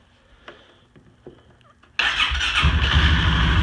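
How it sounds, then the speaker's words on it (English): A 2018 Polaris Sportsman 570 ATV is cranked after quiet handling noises, catching abruptly and settling into a loud, steady close-up engine run. "starts right up, no problem."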